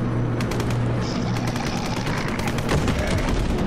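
Sustained gunfire from a WW2 train in Rotting Railways, shooting at mutated zombies: a dense, continuous barrage of rapid shots, loud and close, with no talk over it.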